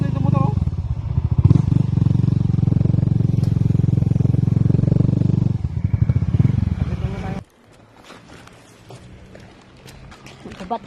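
A motorcycle engine idles and revs nearby with a loud rumbling drone for several seconds, then cuts off, leaving quieter clattering background sounds.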